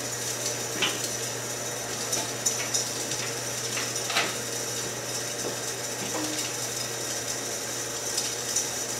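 Ratchet clicks in short bursts while bolts are fitted to a Renegade oil pan on a Porsche 944 with a V8 swap, mechanical ticking close by over a steady low hum.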